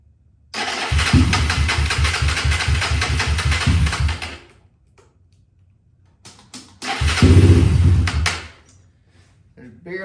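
A Honda 300ex ATV engine runs rough on almost no fuel, sputtering loudly in two uneven bursts with a dead pause between them, like an engine catching and dying again.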